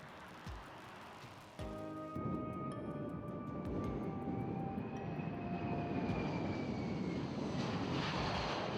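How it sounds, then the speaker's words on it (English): A C-17 Globemaster military transport aircraft taking off: a few thuds, then a loud jet engine roar swelling into a broad, steady rush with a whining tone gliding downward. "Allowing the Globe Master to take off quickly, as well as operate from short, austere landing strips."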